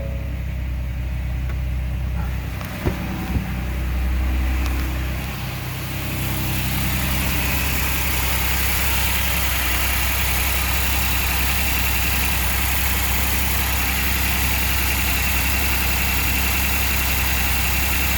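A Ford EcoBoost engine with almost 12,000 miles cranks over and settles into a steady, close idle, a brief start surge followed by a continuous even hum with a light vibration throughout.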